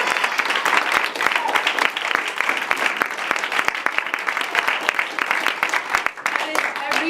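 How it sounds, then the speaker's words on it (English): Applause from the audience at a live Q&A event, a dense sustained clapping close by and continuous throughout, with a few sharper claps standing out. "So please give a really big, huge round of applause to Rhea."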